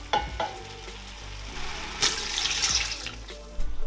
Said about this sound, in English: I'm going to add water in this pot because I didn't add any water on it when I started